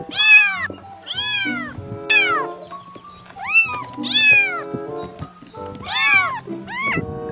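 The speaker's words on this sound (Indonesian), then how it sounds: "Ternyata seekor kucing." A cat meows repeatedly, rising and falling wails in a steady series of about eight calls, close and loud with no talking.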